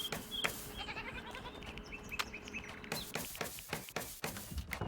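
Goats bleat briefly amid a busy, noisy backdrop of clicks and rustles, the calls fairly faint and scattered, in the video game Going Medieval.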